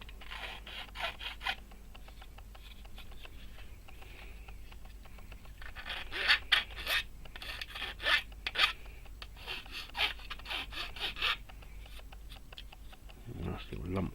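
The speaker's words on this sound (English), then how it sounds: "Don't take too much with a nice file." A hand file rasps over a plastic part of a Star Wars TIE fighter model, smoothing a small lump, in short scraping bursts with pauses between them; close and moderately loud, with a low steady hum underneath and no speech.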